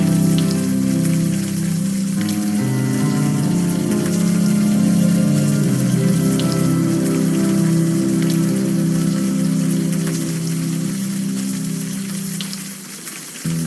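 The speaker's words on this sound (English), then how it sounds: "The rain isn't helping, that's for sure." Steady, loud rain pours continuously in the adventure video game Unavowed, a dense hiss with low rumble that persists throughout, with no talking.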